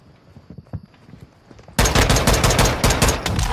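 An automatic gun fires in the video game Modern Warfare 2 during its open beta: a loud, rapid burst of shots starts abruptly after a quieter opening of soft game noises and keeps rattling to the end.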